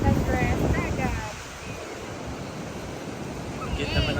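Sea waves rolling onto a beach in a steady wash of surf, with wind buffeting the microphone and voices talking faintly in the background.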